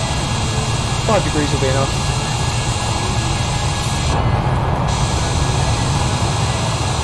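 Steady engine roar from a Boeing 787 taking off in Flight Simulator 2020, a continuous jet drone with a person talking over it.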